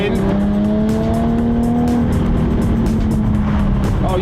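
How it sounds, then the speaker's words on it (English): A Jaguar F-Type sports car's engine roars steadily under hard acceleration, loud and close from inside the car, with a rising tone and heavy road noise. "I just want you to hear this car when you give it some gun"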